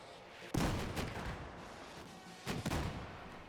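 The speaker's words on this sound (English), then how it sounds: "we've got missiles flying out of smoke" Missiles launching and exploding in Battlefield 4 gameplay: two heavy booming bursts, one near the middle and another toward the end, each trailing into rumbling, crackling debris at moderate loudness.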